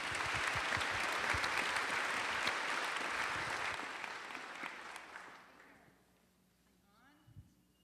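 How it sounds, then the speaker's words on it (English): An audience at a town hall in Cherokee breaks into sustained clapping to welcome a panel, loud and dense before thinning and fading out, with voices beneath it and a few words as it dies away. "Please give them a warm round of applause"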